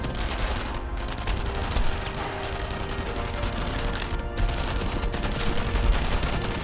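Gunfire crackles in a World War II shooter game, a dense run of rapid shots over a continuous noisy battle bed, with no voices.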